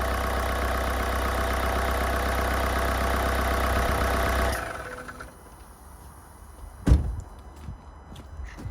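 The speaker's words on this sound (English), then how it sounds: "that chuffing you can hear as well, quite loud. It hasn't got an intercooler on it, has it? But engine sounds absolutely sweet" A damaged, abandoned project Mercedes with no intercooler fitted idles loudly with a steady chuffing rumble for several seconds, then the engine cuts off, leaving quiet before a single sharp thud.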